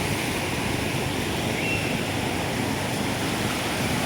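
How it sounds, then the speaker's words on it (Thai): Huai Chan waterfall flows strongly, producing a steady, even roar of rushing water that holds unbroken, with no voices. "บริเวณด้านบนของน้ำตกห้วยจันนะครับ ดูครับไหลแรงทีเดียวครับ"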